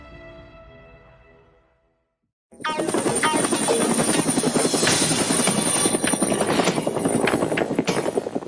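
A helicopter's rotor chops steadily and loudly after a quiet opening with faint tones, the rhythmic thudding continuing close by to the end.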